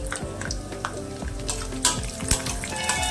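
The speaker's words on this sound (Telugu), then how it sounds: "ఇవన్నీ మాడిపోకుండా సిమ్లో పెట్టుకొని ఈ విధంగా అయితే ఫ్రై చేసేసుకోవాలి" Cashews, peanuts and raisins fry in oil in a pan over a low flame, giving a steady close sizzle with soft crackles and a few stirring clinks throughout.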